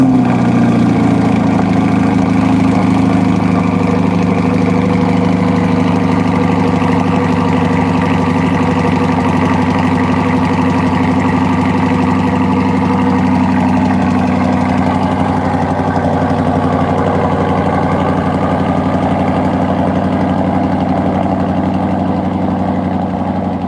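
A C8 Corvette Z06 idles loudly up close, a steady deep rumbling drone that holds for over twenty seconds with only slight shifts in pitch.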